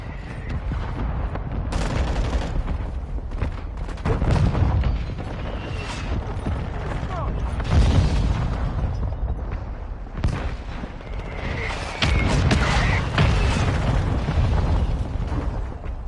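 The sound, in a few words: mortar strike explosions in video game Modern Warfare 2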